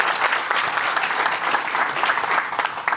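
Conference audience applauding at the end of a tech talk on AI chat apps, a dense, continuous patter of many hands clapping in a hall, steady and moderately loud throughout.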